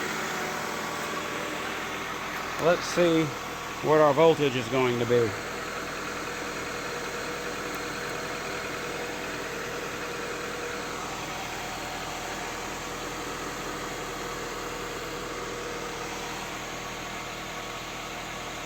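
Close, steady idle of a 1998-2002 Honda Accord running on freshly replaced alternator brushes and a new belt, a smooth even hum that continues throughout, with someone talking briefly near the start.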